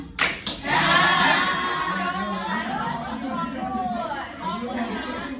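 A classroom of students claps hands in a call-and-response clapping game, a sharp burst of claps at the start followed by chatter and a teacher's voice.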